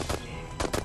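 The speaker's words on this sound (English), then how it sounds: "Shooting." Rapid alien weapon fire in Destroy All Humans, a remake of the game, cracks out in quick bursts over a busy game soundscape, with a louder cluster of shots near the end.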